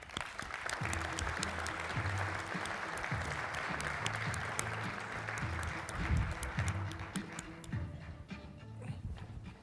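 A conference audience gives sustained applause in a large hall to welcome a speaker, the clapping steady and full throughout, while low music plays underneath and the applause thins toward the end.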